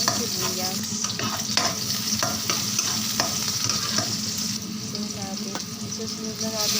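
Garlic and onion sautéing for seafood pancit, a steady oil sizzle broken by repeated stirring scrapes of a utensil against the pan, close and continuous, with brief bits of voice in the background.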